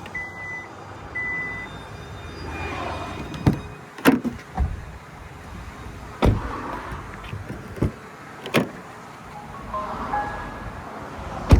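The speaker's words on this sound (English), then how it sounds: "Power tailgate." A 2022 Kia EV6 Wind AWD's power tailgate at work, with a steady electric motor hum, soft beeps and several sharp clunks and latch thuds spread across the span, recorded close with no talking.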